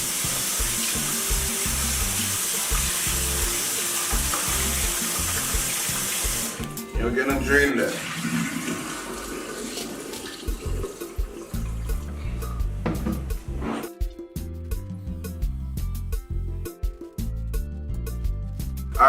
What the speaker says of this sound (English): give it a little rinse with warm water